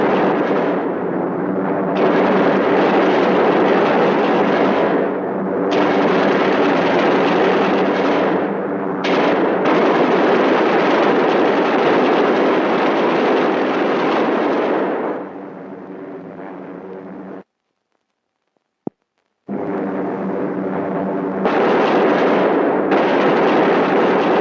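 B-17 and B-24 bombers in flight during a 1944 WWII bombing raid: a loud, sustained engine drone that drops away briefly, cuts out with a single sharp pop, then returns at full strength.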